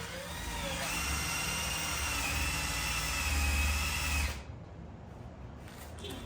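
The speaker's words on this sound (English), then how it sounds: "we're literally just gonna start sawing off the glue" A power tool whines steadily for several seconds, sawing adhesive glue off a 2018 Audi S5, its motor droning loud and close, then cuts off abruptly into quieter background noise.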